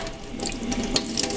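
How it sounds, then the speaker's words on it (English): Warm water runs steadily from a sink tap over paint brushes being rinsed, a continuous close splashing hiss with small spattering bursts throughout. "I'm gonna turn on the warm water."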